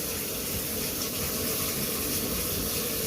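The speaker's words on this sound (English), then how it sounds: "Let me rinse this plate real quick." Tap water runs steadily and close by, a continuous rushing splash as a plate is rinsed, with no talking.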